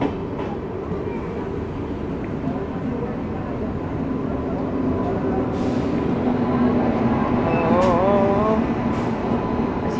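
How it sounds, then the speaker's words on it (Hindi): An Indian passenger train runs at speed alongside the Raigarh Jan Shatabdi Express, with a steady rumbling roar and rail noise that swells slightly, plus a brief whistle-like tone near the end. "अब तक का गजब रेस है जन शताब्दी के साथ, अब हम ओवरटेक कर रहे हैं।"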